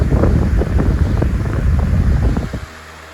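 A Masterforce 14-inch floor fan, model HV-14D, roars with a loud, close rush of air, then spins down and quiets sharply near the end.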